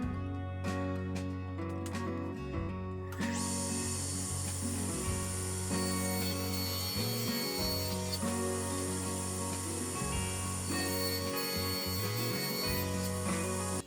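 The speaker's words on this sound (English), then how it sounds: "we're going to take another piece of scrap 1/2 inch MDF and we're going to rip it 1 inches wide" A saw rips a scrap of half-inch MDF into one-inch-wide strips in a woodworking shop. A steady, humming motor drone carries through, with brief dips and changes in tone as the cut proceeds.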